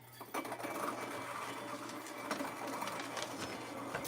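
A burr coffee grinder grinds beans for a V60 pour-over, a steady close whirring hum with a constant low drone and gritty crackle running unbroken through the whole stretch.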